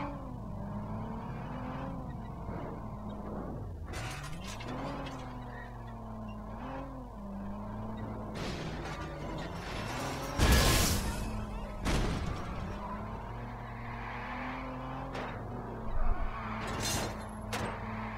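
Car driven in the video game Watch Dogs, engine hum droning steadily with gear-like pitch shifts and occasional louder bursts, brief crashes or skids near the middle and end.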